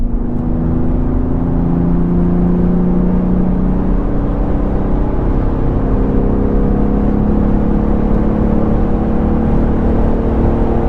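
A BMW X3M F87 Competition engine pulling hard in sixth gear from about 110 on the autobahn, a steady loud droning rumble with rising tones and wind and road noise, heard from inside the cabin.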